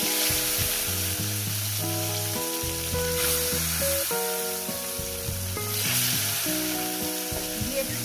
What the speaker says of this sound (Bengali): এবার আস্তে আস্তে মাছগুলো দিয়ে দেবো।